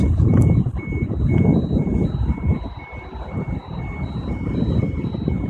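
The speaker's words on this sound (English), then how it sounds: "I think that was an alarm going." A vehicle alarm beeps steadily near a tugboat, with a regular pattern of repeating high beeps over loud rumbling engine and water noise. The beeps come from close by and no one speaks.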